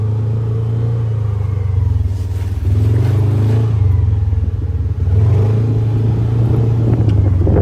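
A Gator utility vehicle engine rumbles loudly and continuously while driving across a property, with the revs rising and falling slightly, very close and without talk.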